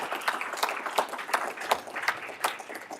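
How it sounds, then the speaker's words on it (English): An audience at a student symposium debate claps steadily for the professors and judge, a dense roomful of applause with regular rhythmic peaks and no talking. "Let's have one more round of applause for Professors McConnell and Feldman and Judge Menashi."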